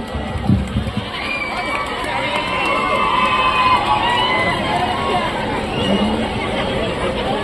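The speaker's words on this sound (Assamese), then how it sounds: "আহক এজাৰি উষ্ম হাত চাপৰিয়ে আমি তেখেতক সাদৰ সম্ভাষণ জ্ঞাপন কৰোঁ" A large crowd in Tengakhat cheers, shouts and chatters as it greets the chief minister, a loud, continuous wash of voices with children's shouts rising above a dense babble.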